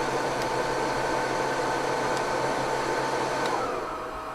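A heat gun set to medium heat, powered through an ALLFAA 1500W inverter, blows a steady, loud broadband whoosh of fan and air with a faint hum, holding even before easing slightly at the end.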